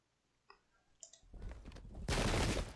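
Musket volley fire in the battle game Sengoku Jidai, starting with faint clicks, then a swelling crackle of massed shots that ends in a loud, dense burst.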